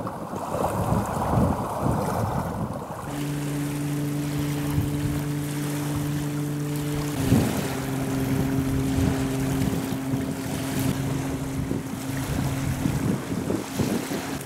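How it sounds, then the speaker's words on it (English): Motorboats and jet skis on a lake, heard as steady engine drones humming at middle distance beneath heavy wind noise, with water and waves in the background and no talking. "I guess we've probably counted 15 or 20 boats and jet skis today already."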